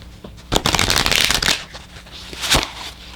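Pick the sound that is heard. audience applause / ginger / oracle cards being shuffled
oracle cards being shuffled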